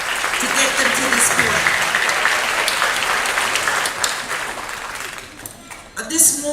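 An audience applauds at an elementary school moving up ceremony, sustained crowd clapping that gradually tapers, with a voice speaking near the end.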